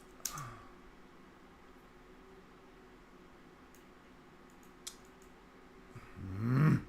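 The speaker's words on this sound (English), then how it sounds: "Keyboard." Typing on a computer keyboard during a Tuesday night livestream, a faint steady patter of key clicks under background hiss, with a louder burst of noise near the end.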